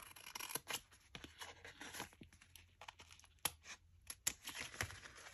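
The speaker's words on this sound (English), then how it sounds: "What I can do is just cut the canvas number off the sticker sheet" Scissors snip through a diamond painting sticker sheet in a quick series of close, crisp cuts, with light paper crinkling between snips.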